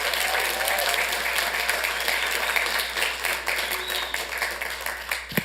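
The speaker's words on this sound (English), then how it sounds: "give another round of applause for all the young people here on the stage" Audience at a Santa Ana city council meeting gives a round of applause for young people on stage, steady clapping with some louder individual claps, tapering near the end.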